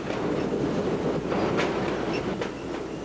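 A Boston elevated rapid transit train rolling along its rails, a steady loud rumble with rhythmic clacks and brief squeals, heard from inside the car.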